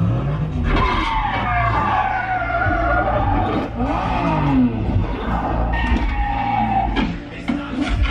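Film car chase effects played through a Nakamichi Shockwafe Ultra 9.2.4 Dolby Atmos soundbar, with continuous engine roar, repeated tire skids and squeals, and revving bursts over a deep low-end rumble.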